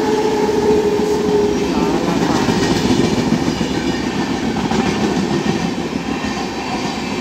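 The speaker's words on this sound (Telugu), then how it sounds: "అది గూడ్స్ ట్రైన్ చూడు, నేను చూస్తలేనని చెప్పి ఫాస్ట్గా వచ్చేసింది" A goods train rolls past near Hyderabad, its steady loud rumble and clatter of wagons filling the whole stretch without pause.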